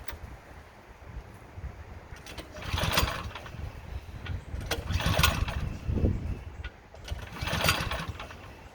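A Craftsman snowblower engine is being cranked with the choke set, giving several bursts of mechanical pulling and sputtering that surge and fade over a low background rumble.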